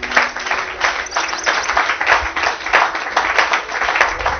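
A church congregation applauds the Lord, steady rhythmic clapping from many hands that continues throughout, fairly loud and close.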